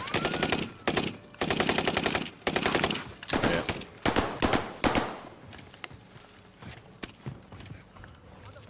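Rapid automatic gunfire from a Call of Duty: Modern Warfare match, loud bursts of machine-gun fire in the first half giving way to scattered single shots and quieter movement sounds.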